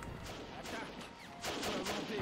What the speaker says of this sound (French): Je voulais juste mettre un coup de canon.